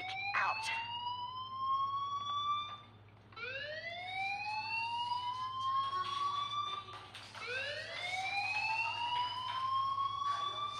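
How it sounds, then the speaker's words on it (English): A fire alarm wails in the video game Life is Strange. Three loud rising electronic sweeps, each gliding upward over a couple of seconds, repeat alone over a steady low hum. "do you hear that fire alarm?"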